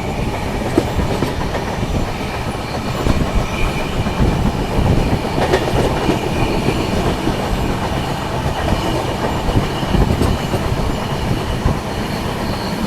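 The Amritsar New Tinsukiya Express (15934) rumbles along the rails at speed, a loud, continuous roar with clickety-clack wheel beats and occasional squeals, heard from on board with no talking.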